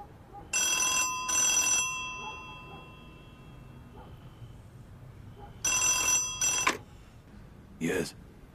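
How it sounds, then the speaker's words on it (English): An old-style telephone bell rings in short double bursts, two rings near the start and another pair later followed by a brief ding, with faint background room tone between. "The telephone is ringing, sir."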